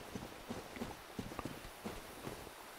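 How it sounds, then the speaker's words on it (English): Soft, irregular footsteps in Dark Souls, faint and fairly distant, a handful of light thuds spread unevenly across the moment with no talking. "I hear footsteps."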